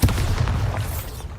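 The Bombarda explosion spell from Hogwarts Legacy lands as a single deep, booming blast that rumbles heavily for just over a second.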